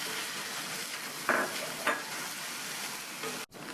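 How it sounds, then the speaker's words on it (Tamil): Chopped tomatoes and masala sizzle steadily in a hot pan, a continuous hiss broken by a couple of brief stirring scrapes, close and without voices. "அதை சேர்த்துட்டு இந்த தக்காளியை வதக்கிக்கணும்."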